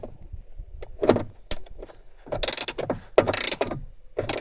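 Ratchet fitted with a 10 mm socket tightening seatbelt mounting screws in a Nissan Patrol Y61, heard as short bursts of clicking and mechanical rattling, fairly close, with brief pauses between turns.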